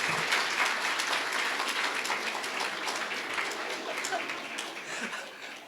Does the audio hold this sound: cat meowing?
no